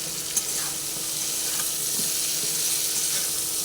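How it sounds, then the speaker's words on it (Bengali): Red spinach with poppy seed fries in a pan after salt is added, a constant dense sizzle running throughout with a few faint stirring scrapes and a single sharp knock near the start. "নুনটা দেওয়ার পরে আবার ভালো করে একটু নাড়াচাড়া করে দিই"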